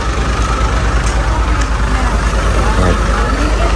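A vehicle rumbles past on a hot roadside in Malabog, with a loud, steady low engine roar that fills the whole stretch while a voice talks over it.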